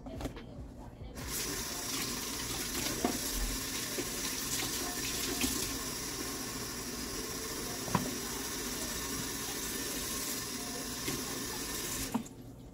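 Water running steadily from a kitchen tap into a container while making a fruit and greens smoothie, a continuous close splashing rush lasting about eleven seconds before cutting off.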